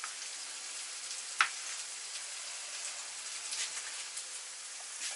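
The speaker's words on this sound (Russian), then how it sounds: "Вместе с луком я отправляю обжариваться и кровяную колбасу." Blood sausage and onions sizzle steadily in a pan over low heat, a soft continuous crackle with one brief sharp pop near the start.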